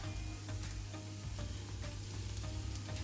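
Onions sizzle and fry steadily in a pan after sugar goes in, for a steak sandwich, with occasional stirring scrapes over a continuous close, even crackle and no talking.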